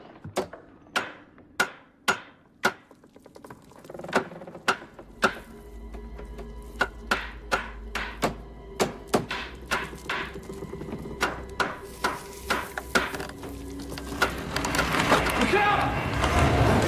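A mallet strikes wood in a run of sharp, evenly spaced knocks, loud and close at first, then quicker and partly masked as a low rumble and rising background noise build toward the end.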